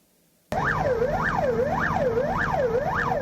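A fire engine's siren wails on the road, starting abruptly and rising and falling in a steady repeating sweep, loud and close throughout with traffic rumble underneath.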